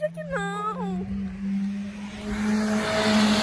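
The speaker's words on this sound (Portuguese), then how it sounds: "ele acelera demais" A car accelerating hard along a street, its engine note holding a steady drone and then swelling into a louder, rougher rush, with excited voices rising over the start.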